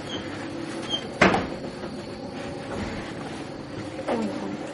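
Train doors opening on a platform at Taunton railway station in Somerset, a single sharp mechanical clunk followed by a fainter later thump over steady station background hum.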